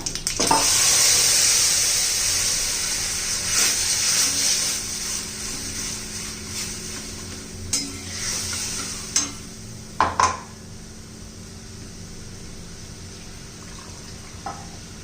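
Ground masala paste hits hot oil tempered with cumin, mustard seeds and turmeric, giving a loud hiss at first that settles to a softer sizzle, with several sharp clinks of a spoon on the pan.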